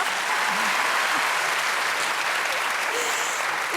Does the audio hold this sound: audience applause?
yes